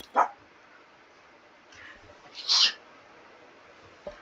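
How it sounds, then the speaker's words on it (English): A pet dog indoors gives a short bark, a few soft whimpering noises, then a louder yelp-like bark, each brief and separated by quiet. "Sorry about my dog."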